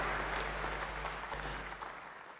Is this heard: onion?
no